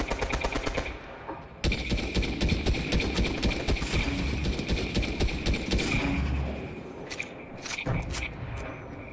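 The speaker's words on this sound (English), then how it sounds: "You're shooting at somebody." Rapid gunfire from Fortnite Battle Royale, dense automatic bursts with sharp repeated cracks running almost continuously, loud and close, with brief gaps.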